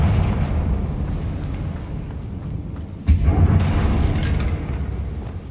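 The Confringo blasting spell in Hogwarts Legacy goes off in a goblin mine as a sudden sharp burst halfway through, set against a constant low rumble that carries on afterward.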